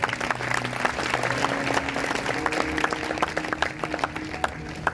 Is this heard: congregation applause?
yes